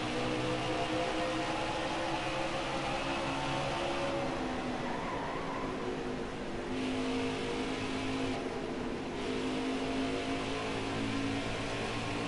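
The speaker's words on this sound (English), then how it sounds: "Now Busch goes 3 wide again off of turn 2, but there's 2 lap cars to his outside" Race car engines drone and rev continuously in the NASCAR Heat 5 video game during an Xfinity Series race at Iowa, a dense, loud engine roar with gentle rises and dips in pitch throughout.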